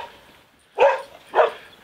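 A dog barking twice indoors, two separate close, loud barks about half a second apart, with no talk over them.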